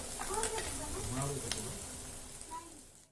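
Peas, chickpeas, beans and peanuts fry in oil for a Maharashtrian mixed vegetable khengat, giving a steady close sizzle with soft stirring scrapes and a few clicks.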